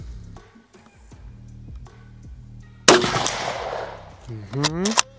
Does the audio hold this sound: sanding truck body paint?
no